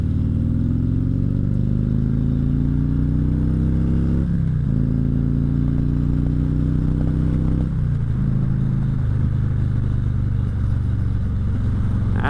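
The motorcycle called the Silver Bullet is ridden along at steady speed, its engine droning loudly and close with rising pitch through gears and brief dips at shifts.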